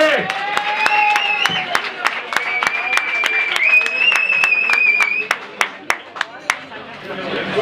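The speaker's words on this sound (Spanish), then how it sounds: "Un aplauso para las bandas con las que hemos compartido cartel. Un aplauso muy fuerte." A concert audience claps in a steady rhythm, sharp claps ringing out over whistles and cheering voices, with the claps growing more distinct toward the end.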